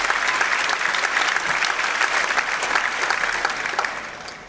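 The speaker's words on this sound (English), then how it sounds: "your round of applause" Audience applause at a medical program graduation ceremony: a steady, full wash of clapping from a large hall, holding level before tapering off at the end.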